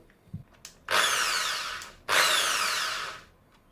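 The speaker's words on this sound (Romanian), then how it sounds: "Îl bag din nou în bormașină." A power drill fitted with a threaded polishing attachment whirs in two bursts of about a second each, high and buzzing, after a few small clicks and taps.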